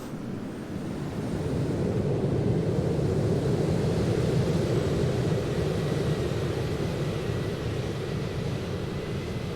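Steady, loud roar of a Boeing 737-800's engines spooling up for takeoff in a flight simulator, a broad rushing rumble that holds constant for the whole stretch.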